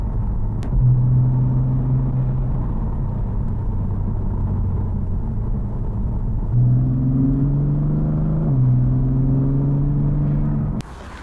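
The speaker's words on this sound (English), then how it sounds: "Those are those automatic downshifts with the burble tune thing, I believe." A BMW M3 with a burble tune idles with a deep exhaust rumble, then climbs through automatic downshifts with a couple of rising revs before cutting off abruptly, close and loud with no voices.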